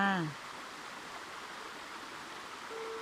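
Water from a stream among green trees rushes in a steady, even hiss that carries on throughout, with a short voiced sound at the very start and a faint tone near the end.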